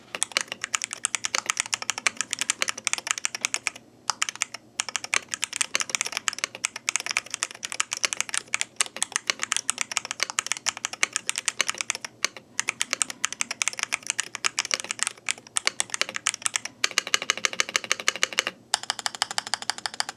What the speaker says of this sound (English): how this keyboard is sound?